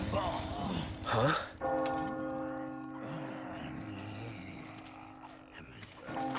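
A church bell rings in the Resident Evil 4 Remake village, its steady tolling tones sustained over game ambience and a brief loud burst early on.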